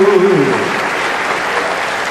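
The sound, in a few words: church congregation applauding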